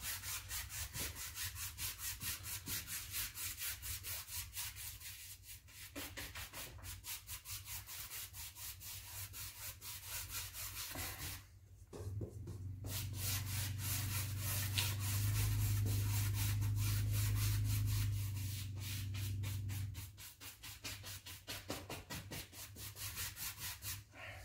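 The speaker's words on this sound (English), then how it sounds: "you want to crisscross all that paint on as best you can." A paintbrush is worked across canvas in crisscross strokes, making a rapid, rhythmic scrubbing sound that continues without a break and grows heavier near the middle, under a low steady hum, with no talking.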